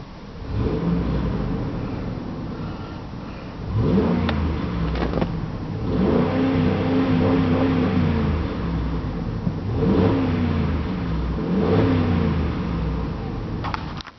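A 2006 Jeep Commander's engine revs repeatedly from idle, several rising and falling surges a few seconds apart, close and fairly loud, with a quieter idle between bursts.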